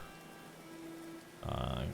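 Rain falls in the medieval colony-building game Going Medieval, a soft steady patter that turns into a louder burst of rain near the end, with someone talking lightly over it.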